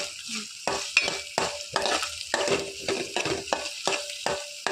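Finely chopped beans and carrots frying in a pan, with a continuous sizzle broken by regular rhythmic stirring scrapes, close and fairly loud, no talking.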